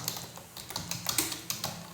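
A computer keyboard is typed on during a software tutorial for a rectangular lamina problem, giving soft, irregular clicking keystrokes that come close together in quick bursts and stand alone without talk.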